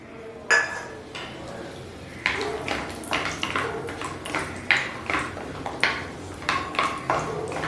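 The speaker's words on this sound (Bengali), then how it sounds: "তেল খুব ভালো করে গরম করে ফ্লেম লোতে রেখে একটু লালচে করে বড়িগুলো প্রথমে ভেজে নিচ্ছি।" Lentil dumplings (bori) frying in hot oil in a pan over a low flame, heard as a close series of clinks and scraping taps of a utensil against the pan, with a faint sizzle underneath.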